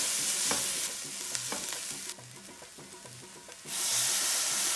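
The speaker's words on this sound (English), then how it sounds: "3 black cardamom, saute for like 1 minute." Black cardamom and tomato paste sizzle in a hot pan for lamb rogan josh, with loud frying hiss, repeated scraping stirs, a quieter dip midway, then a swell of sizzling again.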